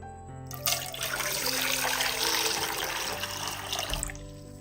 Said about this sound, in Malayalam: ഇനി മുട്ട പൊഴിഞ്ഞെടുക്കുന്നതിന് ആവശ്യമായിട്ടുള്ള വെള്ളവും കൂടി ഒഴിച്ചു കൊടുക്കാം